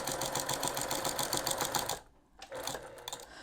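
A sewing machine stitches the edge of a homemade reusable scrubbie sponge, running in a steady rapid patter for about two seconds, pausing briefly, then starting up again close by.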